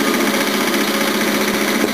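A lathe engine runs steadily in a loud, continuous mechanical hum with a buzzing, vibrating edge, close by and without pauses.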